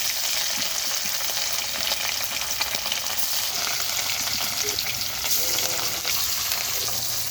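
Large pieces of salted, turmeric-rubbed bhola fish fry in hot oil in a wok, producing an unbroken, fairly loud crackling sizzle close by, with no one speaking.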